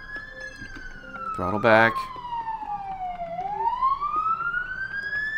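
A fire engine siren wails outside an open window, one long sweeping tone falling then rising again, fairly loud over a brief loud burst partway through, with a voice speaking over it.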